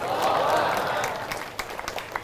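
An audience at a Quran talk at an Islamic boarding school in Jakarta applauds in a short, dense burst that fades out, leaving a few scattered claps.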